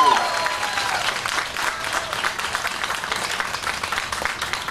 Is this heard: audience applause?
yes